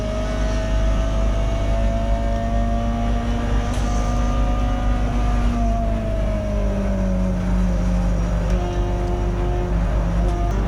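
Peugeot 206 GTi 180 race car in a tin-top saloon race at Mallory Park, heard from inside as a loud, sustained engine drone with rising and falling tones through acceleration and gear changes.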